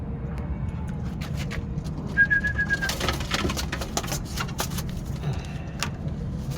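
Pigeons cooing and calling over a steady low rumble of background noise, with a brief whistle-like tone and scattered clicks and taps.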